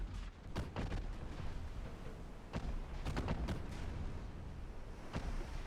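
Naval gunfire from warship turrets in the video game Ultimate Admiral Dreadnoughts goes off as scattered booming shots over a steady rumbling background, with several blasts bunched together in the middle.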